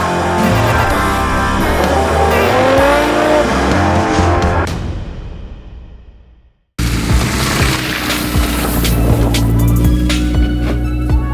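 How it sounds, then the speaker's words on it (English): A 2007 Lexus IS 350 engine revs and strains steadily while driving in snow, cuts out briefly, then resumes with a continuous drone, close up. "we're gonna see how my 2007 Lexus IS 350 performs in the snow"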